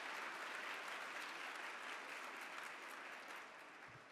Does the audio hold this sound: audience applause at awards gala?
yes